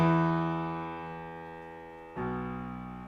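Legato piano octaves sustain and decay without pedal, one chord fading before a second octave pair strikes, clean and moderately soft.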